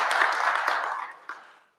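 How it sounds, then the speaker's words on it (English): Brief applause for a board secretary at a public library kickoff event, a burst of clapping from a small audience that fades out within two seconds. "Please give him a round of applause."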